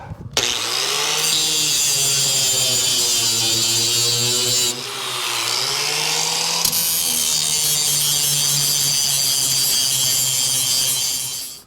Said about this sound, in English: once I get the last couple rivets out.